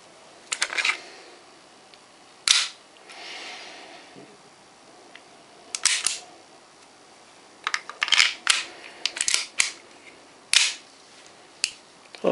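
A KJ Works full-metal Beretta M92A1 replica pistol being handled, its slide locking back on an empty magazine, sharp metallic clacks and clicks in irregular bursts, close and loud against near silence.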